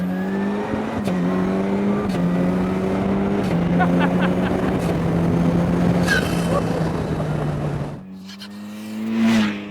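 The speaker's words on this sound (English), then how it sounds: "Apparently you can do 5 downshifts in a second, or you can accelerate at about the same rate." An Ariel Atom 4R sports car with a 400bhp engine accelerates with a loud, close engine note that rises and drops through quick downshifts, a harmonic whine sitting over heavy wind rush, with no talk.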